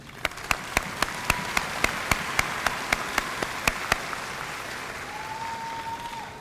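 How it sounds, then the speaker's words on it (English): Audience applause at a college commencement ceremony: a broad wash of crowd clapping, with loud, evenly spaced single claps from someone close by for the first four seconds, then the crowd carries on alone. "Graduates, please join me in giving them a round of applause."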